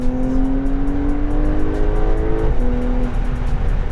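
A 2020 Porsche 992 Carrera engine revs and accelerates up through the gears, a loud deep growl with a rising tone and a brief shift near the end.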